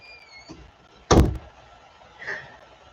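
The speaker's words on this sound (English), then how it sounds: "Can you close the door?" A door closes with one sharp, loud thunk, followed by a faint softer knock.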